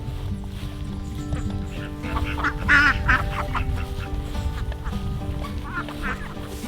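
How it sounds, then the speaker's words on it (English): Ducks quacking outdoors in the rain, a steady patter of rainfall under repeated honking quacks that swell in the middle and again near the end. "The ducks like the rain."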